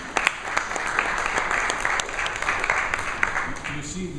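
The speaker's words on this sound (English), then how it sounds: "this came partly as a surprise, so spontaneous applause" Spontaneous applause from the audience after a presentation at the International Labor Organization, a sustained patter of many hands clapping with scattered sharper claps and voices murmuring underneath.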